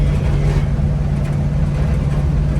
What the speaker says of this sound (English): I love driving this old truck. It's rattly, it's loud,